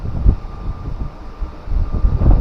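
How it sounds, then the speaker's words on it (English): Gusting wind on the sea coast during a cod fishing session, low rumbling buffets against the microphone that swell and ease in uneven pulses, loud and close. "Keeps gusting occasionally, but overall the wind isn't too bad."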